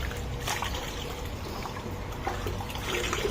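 Water splashing and trickling steadily over a Royal Enfield motorcycle as it is rinsed outdoors, a continuous wet spray close by with faint knocks.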